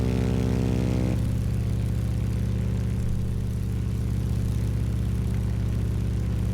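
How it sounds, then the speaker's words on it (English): A video game airplane's engine drones loud and steady throughout, a continuous rumbling whir with no talking. "Does make a lovely sound, this plane"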